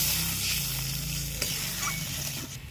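Water poured into spice paste frying in a pan sets off a loud, steady sizzle with light stirring and a few soft clinks, and no voices.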